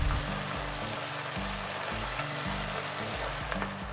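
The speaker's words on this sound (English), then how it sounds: "Add 1 cup of chopped onion and fry it till becomes golden brown." Chopped onion fries in oil with black pepper and bay leaves, giving a continuous close, dense sizzle and crackle with a steady low hum underneath throughout.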